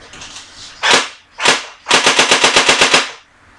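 Airsoft AK-47 firing indoors, two separate loud bursts followed by a rapid full-automatic string of about ten sharp cracks in even rhythm, no voices.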